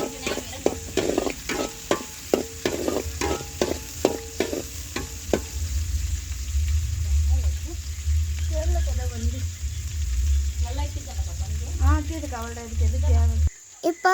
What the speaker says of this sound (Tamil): இப்போ நல்லா வறுத்துக்கலாம். அது வந்து ப்ரௌன் கலர் வர வரைக்கும் நல்லா வறுத்துக்கலாம்.